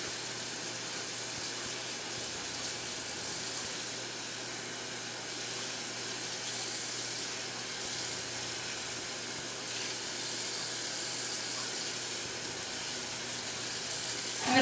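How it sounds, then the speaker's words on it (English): Water from a tap runs continuously into a small kitchen sink during rinsing, a steady hiss with no breaks, no one speaking. "Then just make sure it rinses thoroughly."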